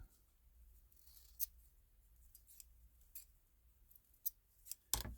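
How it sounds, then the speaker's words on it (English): Scissors snip through thread loops in a quiet room, giving a few faint, crisp cuts spaced unevenly over several seconds. "then I'm going to cut those loops"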